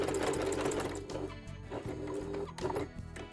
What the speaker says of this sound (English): A couple of locking stitches to secure the start, and then I'm stitching in the ditch